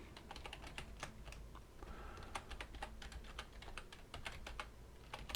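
Fast typing on a computer keyboard, with quick irregular clicks and keystrokes close to the mic but faint, alone without speech for the whole stretch.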